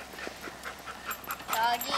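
A dog panting quickly and whimpering close by after playing frisbee, with a person talking over it.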